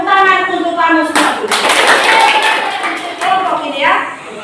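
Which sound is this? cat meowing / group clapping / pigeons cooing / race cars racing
group clapping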